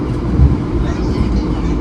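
An express passenger train on the Surabaya–Yogyakarta line rumbles along at speed, a steady low roar with rattling undertones filling the whole stretch.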